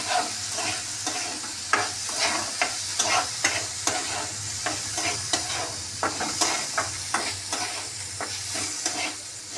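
Moong dal frying and being stirred in a pan, a steady sizzle broken by regular scraping strokes of the spoon, close and moderately loud with no voices.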